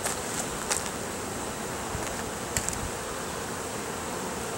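Honeybees drone around a thriving, crowded hive, a dense continuous buzz close by with a few louder passes of individual bees near the listener.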